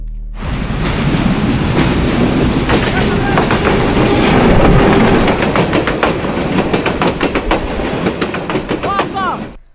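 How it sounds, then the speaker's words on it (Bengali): A train rolls past at a park railway crossing, loud and close, with steady clickety-clack of wheels over rail joints, rumbling carriages and a brief squeal, fading near the end; voices murmur faintly beneath. "ট্রেন আইও"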